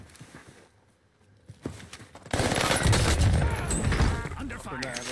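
Gunfire in a competitive battle-royale match, a long dense burst of rapid shots starting partway through, loud and close after a quieter lead-in with faint voices.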